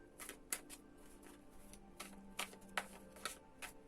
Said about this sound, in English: So I'll just do a final shuffle for you.